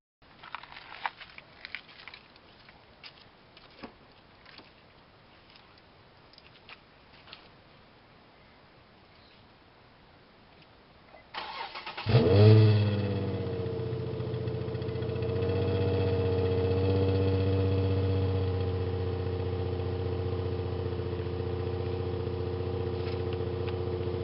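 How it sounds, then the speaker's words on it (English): An Infiniti G35 engine cold start: it cranks and catches after a quiet stretch, then settles into a loud, steady idle with a raspy low rumble, muffler cut off. "I'm gonna give you guys a cold start on her G35 too."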